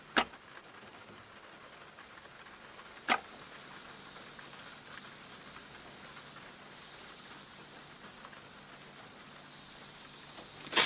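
Steady rain falling on an evening outdoors, a continuous broadband hiss with a few sharp isolated drips or knocks standing out, no talk.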